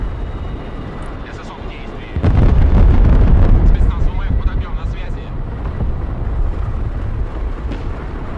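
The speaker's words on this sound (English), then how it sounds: "Nice bombing strike." Bombing strike explosions in the military strategy video game Broken Arrow: a heavy, rumbling blast erupts a couple of seconds in and decays into a long roar, with game voices talking throughout.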